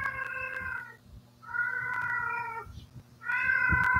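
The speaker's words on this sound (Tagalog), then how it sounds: "Kita mo, pati pusa, sabi ng pusa, oh." A cat meows three times in drawn-out, wavering cries, fairly close and loud, each separated by short pauses over a faint low background hum.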